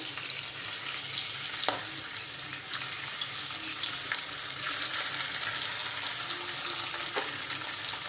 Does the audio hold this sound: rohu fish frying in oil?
yes